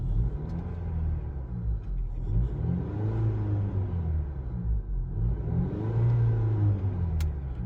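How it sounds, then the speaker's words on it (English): A parked 2019 Honda Accord 2.0t Sport with 108k miles, heard from inside with the windows closed, revs twice in a row, its engine drone rising and falling as a muffled, steady rumble. "let's go ahead and give it some revs while it's sitting with all the windows closed"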